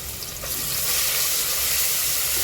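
Crushed spices dropped into a hot pan for tomato biryani, a soft start jumping into a loud, steady close sizzle that holds evenly, with no talk.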